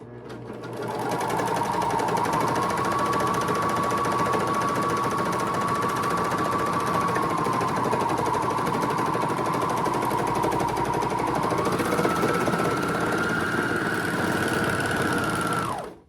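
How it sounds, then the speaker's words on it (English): A serger overlock machine sews the side seams of a tote bag in one long, loud, continuous whir heard up close. The pitch rises slightly near the end before the machine stops abruptly. "I'm just going to serge these sides so that we don't have all this fraying"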